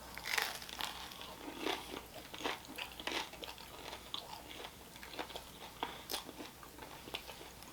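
Crunchy chewing and biting of pizza and 3D Doritos, close to the mic, in irregular bursts of crackly bites throughout with no talking.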